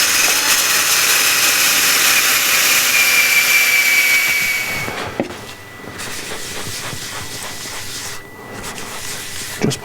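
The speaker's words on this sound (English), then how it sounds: "just sand this knob away" Sanding a leftover knob off a turned wooden piece on a wood lathe: a loud, steady abrasive hiss with a faint whine for about five seconds, then softer scuffing after the pressure eases.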